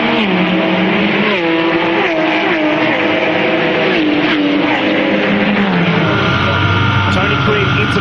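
Onboard roar of Tony Quinn's Mosler GT race car in an Australian GT race, engine loud and continuous as it climbs and shifts through sequential gears, with a commentator talking over it.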